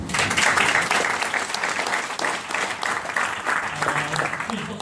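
Audience claps for the speaker's wife, Brenda, at a talk, a lively burst of applause with slight swells that continues at the same level throughout, with a faint voice murmuring beneath it.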